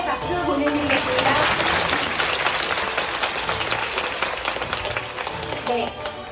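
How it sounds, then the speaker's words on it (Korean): A seminar audience claps to congratulate an award recipient, loud continuous applause from many people with background music and some voices mixed in, tapering slightly toward the end. "축하의 박수 보내드리겠습니다"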